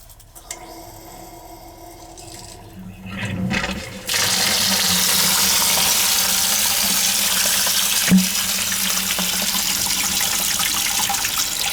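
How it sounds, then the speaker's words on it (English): Water from a leaking boiler drains through a valve into a bucket, a quiet trickle at first, then a loud steady gushing stream that runs continuously after a few seconds. "We're draining it into the bucket."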